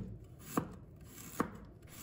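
A knife slicing peeled ginger into thin slices on a board, two distinct sharp chops about a second apart over a quiet background.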